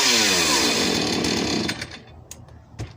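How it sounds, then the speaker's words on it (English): A Husqvarna 450E chainsaw cuts through a big tree, its loud engine roaring steadily before easing off near the end into a few brief knocks and rattles. "There's a Husqvarna 450E, and cuts like butter through our beautiful big trees we have out here."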